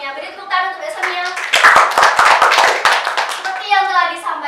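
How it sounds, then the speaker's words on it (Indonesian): Classroom applause for a student during a microteaching lesson: a burst of sharp, uneven hand claps from a group of children, nearby, lasting a couple of seconds between stretches of a teacher's speech. "Beri tepuk tangan untuk Mbak Sonia"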